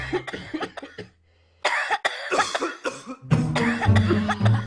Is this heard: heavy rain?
no